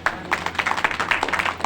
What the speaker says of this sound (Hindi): ताली बजा के धन्यवाद दीजिए।